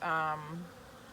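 Honey bees buzz close by during a hive inspection, a brief loud droning hum that fades away within about a second.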